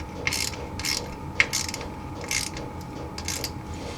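Hand tap and ratchet chasing rusty threads in the bump stop holes of a 1978 Jeep J10, a steady run of close ratchet clicks repeating in short bursts over a faint hum.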